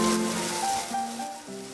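Meat with chopped garlic, ginger and scallions sizzles in a wok during stir-frying, a steady close hiss under a faint tonal hum from the kitchen.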